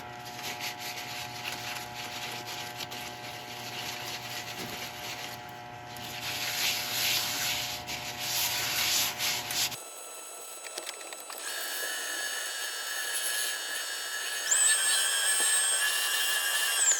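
Grit paper sands a turned wood piece, giving a continuous close rasping and rubbing that swells louder midway and then shifts to a thinner, brighter scraping, with no voices.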